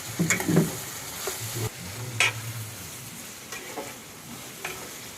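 Nalleru stems frying and being stirred in a pan, with scattered scrapes and light clatter over a soft sizzle, no voices.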